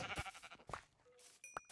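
A Minecraft sheep gives a few short, quiet bleats in quick succession, faint and close, with little else around them.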